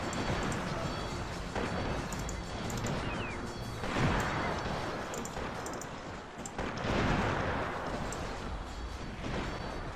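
Continuous booming artillery fire and crashing impacts in the PC strategy game Cossacks, a dense, loud barrage rolling on for the whole stretch with repeated heavy surges.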